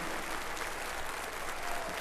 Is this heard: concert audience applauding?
yes